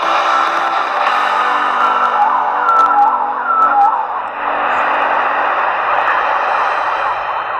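Several people inside a wet, cold, rocky cave imitate whale calls, with sustained wavering hoots and moans that rise and fall together, echoing and fairly loud throughout.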